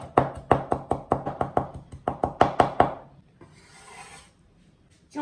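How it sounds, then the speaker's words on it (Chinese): A knife chops ginger into fine bits on a cutting board, about a dozen quick, sharp, evenly spaced strikes, then a brief scraping sweep across the board and a final knock. "最后再给它剁碎"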